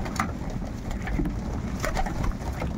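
Year-old pigeons coo softly in a loft, low murmuring calls and light flutters over steady background noise, faint and close throughout.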